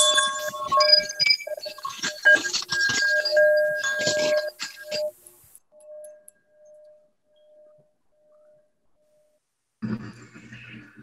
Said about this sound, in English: Unmute yourself and ring your bell.